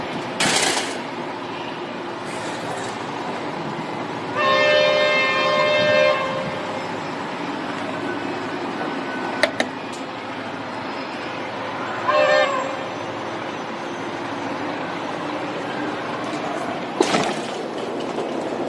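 Ballarat beer festival train running past a level crossing toward Humphrey Street, with a steady rumble, a horn-like tonal burst near the middle and a brief tonal return later, heard from trackside without speech.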